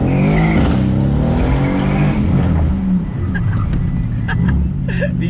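A Mercedes-AMG C63 S Cabriolet brakes very hard, its engine roar dropping away under loud wind buffeting, followed by faint tire and brake squeals as the car comes to a halt.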